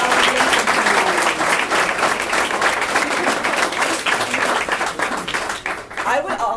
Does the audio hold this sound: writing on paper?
no